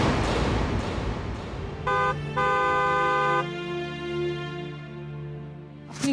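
A car horn sounds two close, loud blasts, a short toot followed by a longer sustained honk, set against quiet street ambience in a Bengali TV drama scene.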